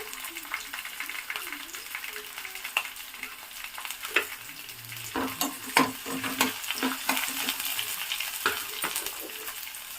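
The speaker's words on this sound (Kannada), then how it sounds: "ನಾನು ಇದ್ರ ಜೊತೆನೆ ಬೆಳ್ಳುಳ್ಳಿ ಹಾಕೊಂತ ಇದ್ದೀನಿ" Garlic frying in a pan for a Sunday egg curry, with a steady close sizzle and intermittent scraping stir strokes that grow busier in the second half, no talk.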